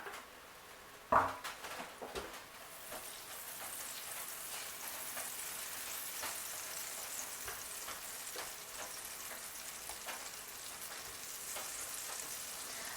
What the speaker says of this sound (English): put the tablespoon of butter into the frying pan